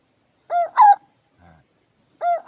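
A rooster crows twice from an MP3 bird decoy caller, two clear crows separated by about a second and a half of near silence, with only a brief low rustle between them.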